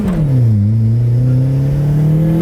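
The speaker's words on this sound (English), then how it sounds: "That was a very good launch" A roadster launches hard from a standstill as the clutch is let go, the engine's loud close roar climbing steadily in pitch as the car pulls away.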